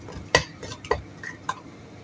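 A utensil stirs chicken fried rice with lentils in a pan. Three distinct metallic clinks sound against the pan over a soft scraping bed.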